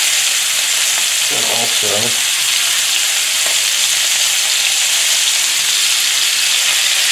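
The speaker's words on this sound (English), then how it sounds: "go ahead and add a handful of garlic" Garlic sizzling in a frying pan alongside elk steak, a steady loud hiss of frying that runs the whole time, with a brief spoken phrase and a couple of soft clinks near the start.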